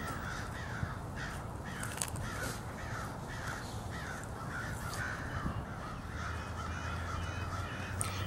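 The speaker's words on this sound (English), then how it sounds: "crows will sometimes dive towards the trees to pull up only at the last second while cawing at the owls" Crows caw in a rapid repeated series over a steady, noisy outdoor background, the harsh calls moderately distant and fairly continuous.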